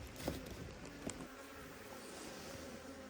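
Honeybees hum faintly and continuously close by in an open hive, a soft low drone of many insects with a couple of light taps.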